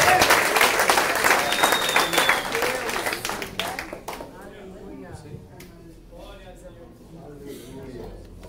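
A church congregation applauding during a service, loud, dense clapping that fades after about four seconds into quieter scattered claps, with voices heard underneath.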